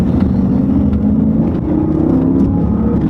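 A Jeep Grand Cherokee SRT8 at full throttle out of a corner, its engine roaring loud and close with a steady, rising drone from inside the cabin.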